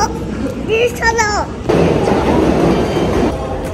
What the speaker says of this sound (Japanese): お、電車だ。